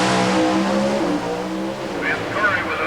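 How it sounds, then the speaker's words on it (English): Pro stock drag race cars, a pair of Oldsmobiles, roaring down the strip at the 1991 NHRA Keystone Nationals at Maple Grove, a loud sustained engine blare with a shifting pitch, heard close and continuous throughout. "A pair of Oldsmobiles blasting their way down the course."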